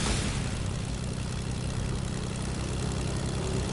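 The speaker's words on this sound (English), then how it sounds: "Holy crap, look at this big airplane." A big airplane drones overhead in a video game, its propeller-like engine hum steady, loud and broadband throughout, with no voices.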